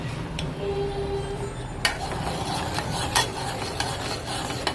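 Sweet pongal rice is stirred in a pot, with a steady thick bubbling simmer and a few sharp scrapes and clinks from the spoon against the pot, close up and alone.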